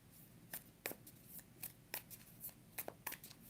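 An Alice in Wonderland tarot deck being shuffled by hand, a quiet close-up run of crisp card riffles and slaps in an irregular rhythm, each burst short and papery.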